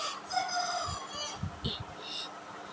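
A video-game rooster crows once, a thin electronic-sounding call, followed by a couple of brief clucks against a low background hum.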